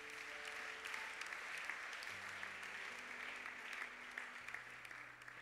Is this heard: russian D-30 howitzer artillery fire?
no